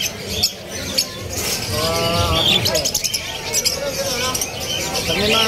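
Birds at a bird seller's stall chirp and tweet in short, repeated bursts from close by, with people talking over them throughout.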